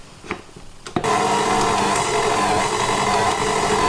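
A stand mixer kneading bread dough switches on after a second of near quiet, then runs as a loud, steady motor whir with a slight rhythmic churn that holds to the end.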